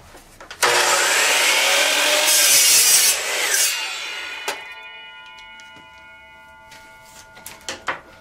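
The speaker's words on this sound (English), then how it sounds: "what I'm going to do is cut this now with the double bevel sliding compound saw" A double bevel sliding compound saw cuts through a wooden board in a workshop, giving a loud, steady rasping whine for about four seconds before spinning down and leaving faint clicks and clatter.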